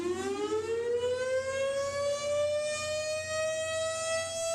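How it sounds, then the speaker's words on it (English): A single tone civil defense siren rises in pitch at the start and then holds a long, loud, sustained wail with rich harmonics, heard alone. "First off, you have a single tone siren,"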